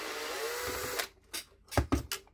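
A Phillips screwdriver unscrews a screw on a Fortuna F40 overlock sewing machine. A low hum fades out, then a few sharp, close metallic clicks and taps follow in quick succession.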